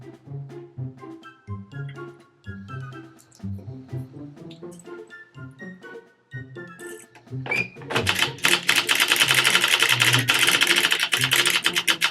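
A hand-cranked circular sock knitting machine turning, with rhythmic clicking and clacking of needles at first, then a faster, louder, continuous rattling run.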